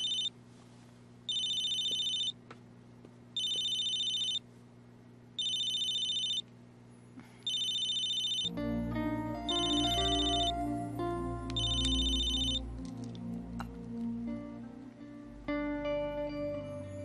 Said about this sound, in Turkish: Bu Burak'ın telefonu değil mi?